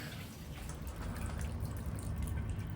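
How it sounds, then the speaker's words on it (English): Water drips and trickles from household pipes after the supply is shut off, a faint, steady wet patter with small irregular drops over a low background. "Drip, drip, drip, drip."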